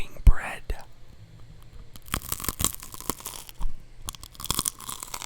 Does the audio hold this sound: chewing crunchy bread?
yes